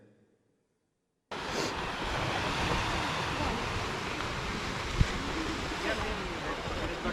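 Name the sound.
waves at a pebble beach in Goa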